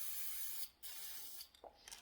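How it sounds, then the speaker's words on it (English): Short bursts of spray paint hiss from an aerosol can into a plastic takeout container, stopping and starting in a few quiet close sprays with small clicks between. "I'm just gonna spray a little bit of the paint in the container"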